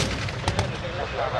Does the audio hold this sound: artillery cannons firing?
yes